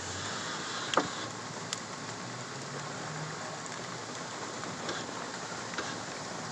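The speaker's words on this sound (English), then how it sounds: "Yeah, that's freaking storming like," Heavy rain pours during a severe thunderstorm in northern Van Buren County, Michigan, a dense steady roar of rainfall with a few sharp drop hits, heard from inside a vehicle without speech.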